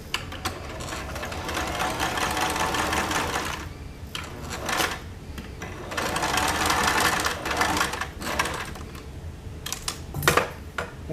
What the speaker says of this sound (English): we're just going to sew a straight stitch all the way up, remembering to back stitch so that it will hold your threads in place